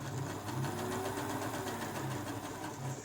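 A Bernina 117L sewing machine driven by a Sotric motor runs steadily under foot-controller speed control, giving a continuous close mechanical whir and hum with a fine rhythmic stitching rattle and no pauses.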